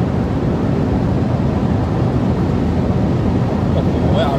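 Honda City hatchback at high speed, with a steady roar of engine and rushing wind noise filling the cabin throughout, loud and unbroken.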